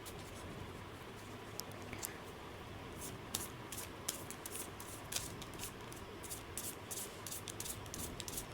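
A deck of cards is handled and shuffled during a tarot-style card reading, with soft papery rustling and scattered quick snaps and flicks that grow busier toward the end, close up with no talking.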